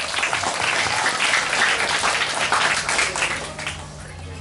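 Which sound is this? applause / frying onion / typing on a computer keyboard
applause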